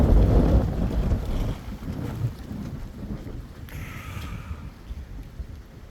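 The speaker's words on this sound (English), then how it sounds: "it's a bit blustery out here" Blustery wind roars across the microphone at an outdoor worksite where a tree crew is craning trees over scaffolding, with loud rumbling gusts and buffeting that ease off slightly over a few seconds.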